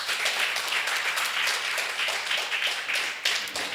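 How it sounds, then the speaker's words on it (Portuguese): A congregation claps loudly at a Christmas church service, a dense, steady wash of many hands with a few sharper smacks standing out near the end. "Dê um forte aplauso ao Senhor"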